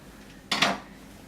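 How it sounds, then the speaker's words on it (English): Peeled apples dropped into a bowl during apple pie preparation, one brief clattering knock of fruit against the bowl, close and fairly loud, with a quiet room before and after. "We take all the apples, we put them in the bowl."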